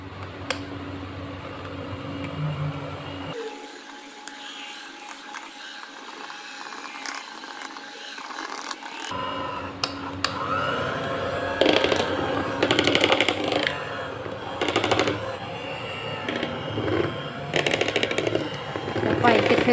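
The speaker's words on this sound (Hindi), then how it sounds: "So ji let's blend it." An electric blender whirs through almond sponge cake ingredients in a home kitchen, a loud grinding buzz that cuts out briefly and then resumes with rattling bursts, with a voice talking over it at times.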